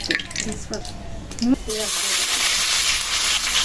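Hot mustard oil in a pan for frying fish bursts into a loud, steady sizzling hiss after a few seconds of talk, continuing strongly to the end.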